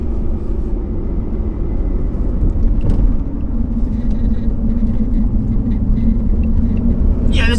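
A lifted Jeep drives along a road, its engine and tyre noise forming a constant loud, close rumble heard from inside the cabin.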